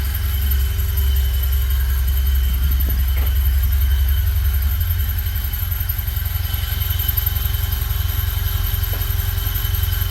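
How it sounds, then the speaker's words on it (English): A 1974 Alfa Romeo engine idles steadily with a low, even rumble and a faint whine, with a couple of brief clicks partway through. "It's idling pretty nicely."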